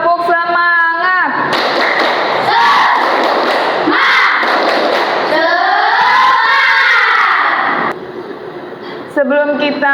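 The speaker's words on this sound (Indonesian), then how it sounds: "Biar lebih semangat lagi, coba sekali lagi. Tepuk semangat." A primary school class chants and claps the rhythmic tepuk semangat routine together, loud and close, with shouted voices and bursts of clapping running throughout and a brief quieter moment near the end.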